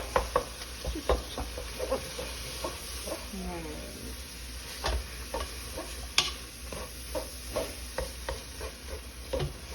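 A spoon stirs chili ingredients in a pot: scraping, clicking strokes and a light sizzle in an irregular rhythm, close by, with a steady high-pitched hiss underneath.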